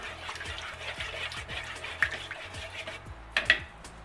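Sea salt is stirred into two cups of warm water in a mixing bowl for arepa dough, a quiet steady swishing with small drips and a couple of brief clinks near the end.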